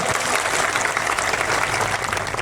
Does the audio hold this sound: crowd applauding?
yes